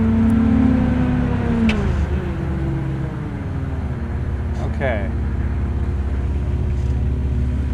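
Propane-powered ice resurfacing machine running with a steady close engine hum that dips in pitch early on, with people talking over it.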